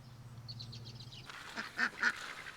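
Wild ducks at a pond where large carp are being fed, giving a few close, honking quacks in quick succession over a quieter low background hum.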